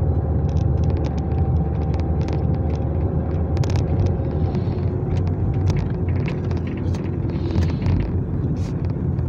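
A car cruises through desert hills past mansions, its engine and tyres making a continuous low rumble under buffeting wind noise and occasional small clicks and rattles.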